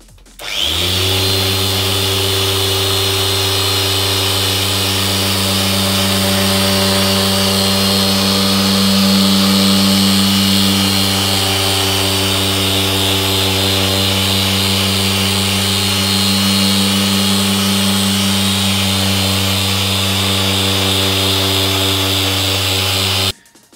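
A machine polisher hums loud and steady as it buffs scratches out of 20-year-old car paint, running alone with no talking for most of the stretch.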